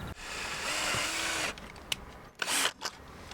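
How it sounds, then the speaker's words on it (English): A power drill whirs in a sustained burst and then a few short pulses while driving screws into a plastic cell block on a kayak fishfinder mount, close and moderately loud with no talking. "Now we're screwing in all of the screws in the cell block."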